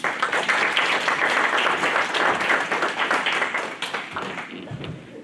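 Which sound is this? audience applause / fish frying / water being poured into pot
audience applause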